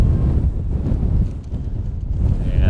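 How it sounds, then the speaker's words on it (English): Strong gusting wind buffets the microphone at an outdoor high school girls' softball game, a loud continuous rumbling roar with no speech over it. "a brief delay here as the wind continues to whip around here"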